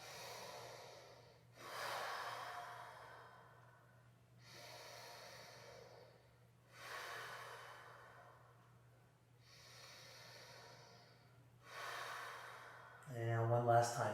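Deep inhalations and exhalations during yoga practice, repeated in slow, even cycles about every two to three seconds, close and soft over a low steady hum, with a brief louder sound at the end.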